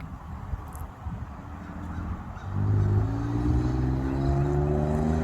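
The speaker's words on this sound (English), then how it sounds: "Let me hear the exhaust pipe." A 2008 Ford F150 XL with a 4.2 V6 and a new exhaust tip, at a muffler shop. Quiet idle rumble, then the engine revs up sharply midway and holds a loud, droning exhaust note.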